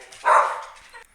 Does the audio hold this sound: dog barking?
yes